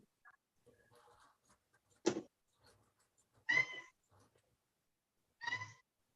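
A house cat meows three times at home, each call short and fairly clear, spaced a second or two apart, with faint background rustling and a few soft knocks between them.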